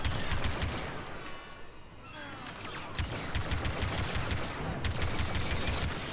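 Lando's blaster in Star Wars Battlefront 2, fired rapidly in a steady stream of crackling shots over a chaotic battle mix, loud and continuous with brief dips in intensity.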